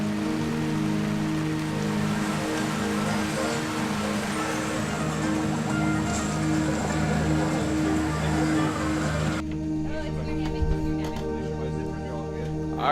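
Steady rain falls in Laos, a dense, even hiss of drops on surfaces that continues without pause and becomes slightly thinner and quieter toward the end.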